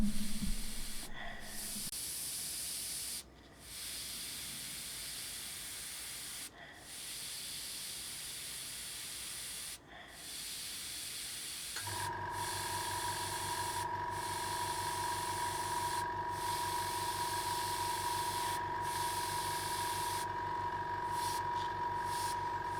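An airbrush sprays dots onto paper with a steady airy hiss, broken by short gaps and a few brief stops. Partway through, the hiss turns fuller and louder, with a humming tone underneath.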